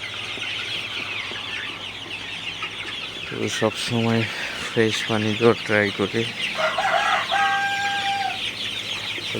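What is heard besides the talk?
Sonali chickens clucking in hen house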